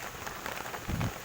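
Rain falls on a watermelon field during the rainy season, a steady soft patter of drops with a brief heavier thud near the end, alone.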